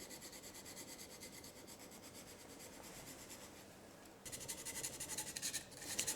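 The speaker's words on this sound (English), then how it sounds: "pressing the blade towards the stone. And start sharpening," A knife blade is stroked repeatedly across a sharpening stone, quiet rhythmic rasping and rubbing close by, growing louder and brighter in the last couple of seconds.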